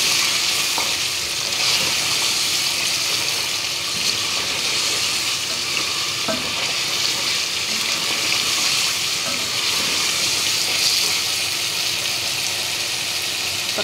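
Spices for chicken nihari frying steadily in hot oil, a continuous close sizzle with occasional stirring scrapes running evenly throughout.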